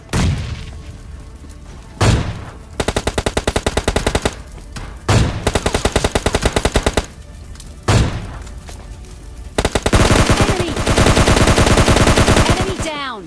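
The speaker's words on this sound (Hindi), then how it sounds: "मैंने 3 शॉट मार दिए" Three heavy AWM sniper rifle shots in a mobile battle royale game boom out a few seconds apart. Loud bursts of rapid automatic gunfire fill the gaps, ending in a long, sustained barrage.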